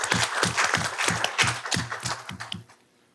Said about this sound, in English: So let's give her a round of applause, please.